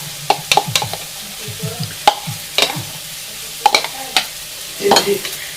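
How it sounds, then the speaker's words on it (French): Tomato salad being tossed with a freshly mixed dressing: wet, squelchy stirring strokes and occasional utensil taps against the bowl, close up, irregular and fairly quiet, with no talking. "je vais mélanger donc du coup ce mélange à ma salade de tomates"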